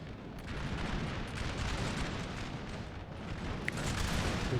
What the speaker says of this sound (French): Le canon autrichien va certainement traverser son branle.